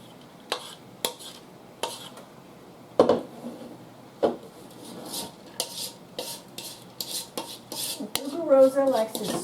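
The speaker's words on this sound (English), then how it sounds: "Rosa likes to scrape every little part out of the bowl" A spatula scraping sticky granola mixture from a bowl, a run of close rasping strokes and light knocks, irregular in rhythm and growing busier toward the end.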